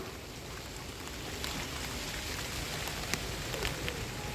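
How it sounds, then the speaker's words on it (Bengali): Rain falling on a rooftop vegetable garden, a steady, fairly faint hiss of drops spreading evenly across the clip, with no voices. "বৃষ্টিটা কি যে শুরু করলো"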